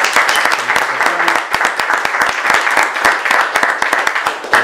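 Audience applause at a certificate presentation ceremony, with dense, steady clapping from a group of people that holds loud and continuous throughout.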